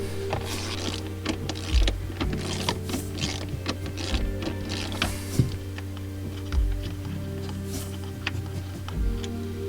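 Ratchet wrench turning the bolts of a Honda CR-V rear seat, with repeated fine clicking and occasional low thumps and knocks at close range, steady and mechanical with no talking.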